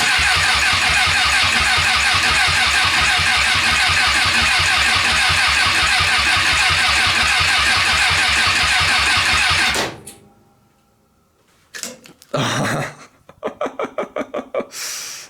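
A car engine that was overheated cranks steadily with the throttle held down during a compression test on cylinder number 2. The loud, rhythmic churning runs for about ten seconds and then stops, followed by a few short clicks and bursts.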